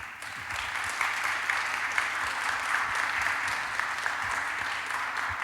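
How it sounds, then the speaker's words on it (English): An audience at an opening ceremony applauds Kathleen Kennedy as she comes up to speak, a steady, dense wash of clapping from a sizeable crowd that holds evenly throughout. "A big applause for Kathleen, please."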